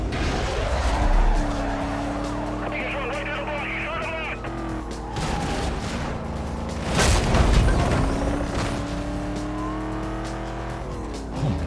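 In the Need for Speed Unbound racing game, a car spins its wheels and skids. Loud tire squeal and engine roar rise and fall, with a voice talking over them.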